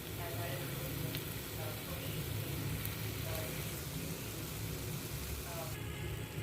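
Paneer curry masala with kasuri methi fries steadily in a pan, a continuous close sizzle with faint stirring scrapes and an engine-like low hum beneath.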